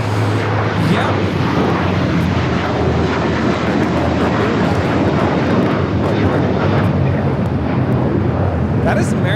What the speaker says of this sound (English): That is American Airlines 513 taking off to Philadelphia on the A321.